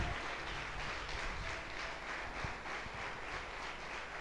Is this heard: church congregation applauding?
yes